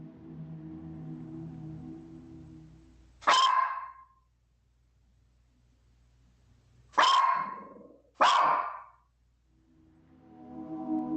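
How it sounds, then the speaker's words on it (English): A dog barks angrily indoors at night, three sharp, loud outbursts spaced apart across a quiet room, with a low background hum between them. "a dog can be heard barking at it angrily as soon as it turns its head and notices it as well"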